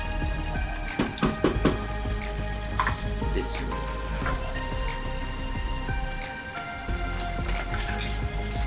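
Chicken pieces dropped into hot masala in a karahi, cooked village style, setting off a steady loud sizzle and crackle with scattered spits and a few clanks of stirring, no voices.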